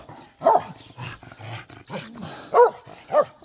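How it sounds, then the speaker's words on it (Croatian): A dog barks outdoors on a sunny Sunday morning walk, with a few loud, sharp barks near the start and two more near the end, and quieter whines and snuffles between them. "danas više laje nego jučer"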